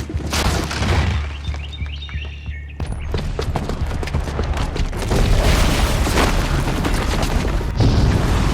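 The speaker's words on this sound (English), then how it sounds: "the booby trap on the bomb downstairs is gonna get set off" A bomb blowing up in Horizon Zero Dawn: deep booming blasts with shattering debris, a brief quieter lull with tonal game sounds, then sustained loud rumbling and crackling bursts to the end.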